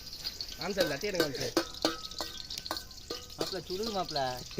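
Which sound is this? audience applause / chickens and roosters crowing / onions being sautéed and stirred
onions being sautéed and stirred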